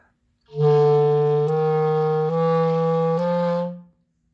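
A clarinet plays a smooth chromatic scale of stepped notes, each sliding into the next, sustained and close with no talking.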